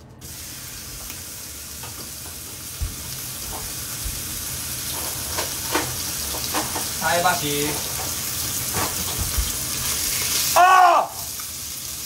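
Minced meat frying in a frying pan over low heat for a soboro rice bowl, a steady close sizzle with occasional utensil clicks and scraping, while a person speaks briefly over it.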